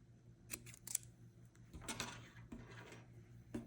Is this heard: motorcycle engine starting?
no